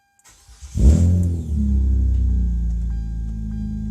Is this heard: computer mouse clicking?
no